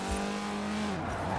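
A racing car engine in the video game Forza Horizon 4 whines at steady high revs, then the pitch drops and wavers as it shifts and rises again, loud and close.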